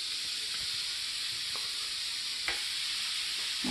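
Thick burger patties sizzle in a hot pan with a steady, loud, even hiss and a few faint pops and clicks, with no voices.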